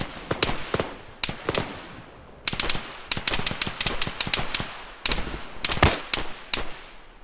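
Video game gunfire from blind firing at targets down a street, loud rapid automatic bursts in three clusters separated by short pauses, sharp and close.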